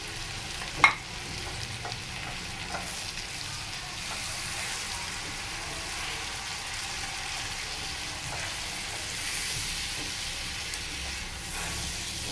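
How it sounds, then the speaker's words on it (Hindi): Goat liver with yogurt fries in a pan as a steady, even sizzle and hiss, with occasional stirring scrapes and one sharp clack near the start, close and continuous. "अच्छी तरह मिक्स करते रहें इसको।"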